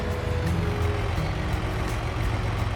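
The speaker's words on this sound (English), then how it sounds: "This truck sounds amazing too." A truck engine runs with a steady low rumble throughout, close and moderately loud, with faint periodic clicks above it and no talking.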